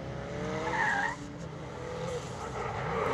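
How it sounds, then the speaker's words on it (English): Race car with gearbox trouble in pro qualifying at an IDC round, engine revving and dropping as the driver works the clutch, with a brief tyre squeal at low speed; loud and continuous throughout. "you can hear him using the clutch quite a bit"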